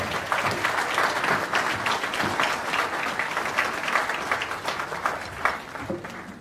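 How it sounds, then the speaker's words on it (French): An audience applauds warmly for a chicha singer who has just arrived with her violinist, the steady clapping of many hands filling the room for several seconds. "Elle est là, on l'applaudit bien fort."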